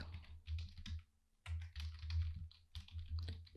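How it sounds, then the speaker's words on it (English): Close keystrokes on a computer keyboard as Excel VBA code is entered, coming in three quick bursts of clattering taps separated by brief pauses. "we're going to type active workbook"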